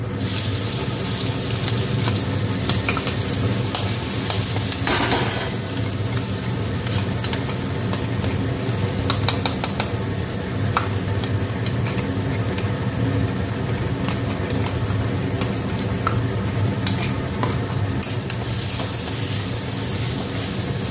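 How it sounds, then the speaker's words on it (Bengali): Garlic and green chilies frying in oil with black cumin seeds, a dense, loud, steady sizzle and crackle that runs unbroken, close up, with occasional faint stirring. "এটাকে লাল লাল করে ভাজবো, একদম রসুনের কাঁচা অংশ যতক্ষণ না যাবে ততক্ষণ কিন্তু ভাজতে হবে।"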